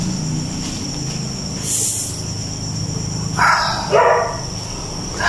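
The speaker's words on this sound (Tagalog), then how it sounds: "Tumatawag yung aso." A dog barks a couple of times inside an abandoned apartment building, the short barks sounding somewhat distant against a steady background hum.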